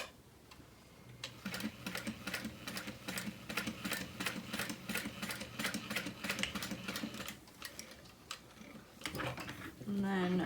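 A sewing machine back stitches along the outer edge of a handbag strap connector, a steady run of rapid mechanical ticks lasting several seconds, then stopping before a brief voice.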